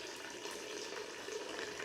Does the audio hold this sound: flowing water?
yes